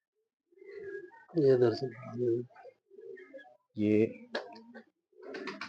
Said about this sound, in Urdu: یہ ہمارے دل کے بہت قریب والے کبوتر ہیں دوستو